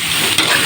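Food frying in hot oil, a loud, close, continuous hiss of sizzling with a sharper pop near the end, very brief and with no talking.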